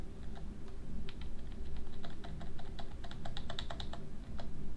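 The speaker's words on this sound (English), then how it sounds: "Sorry if the keyboard's kind of loud, guys." Loud clacky computer keyboard typing, rapid irregular keystrokes in bursts over a steady low hum, close to the microphone with no talking.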